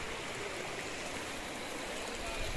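Water flows through a field irrigation channel among hillside paddy fields in Uttarakhand, a constant close rushing burble that holds steady throughout.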